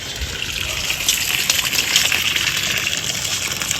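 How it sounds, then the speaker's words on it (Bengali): Water gushes steadily while plants are being watered, a close, continuous hissing splash with no pauses. "জল পড়ে যাচ্ছে"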